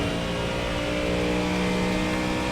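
A GT or prototype race car engine in iRacing under full throttle, giving a dense, steady, loud roar that holds constant throughout.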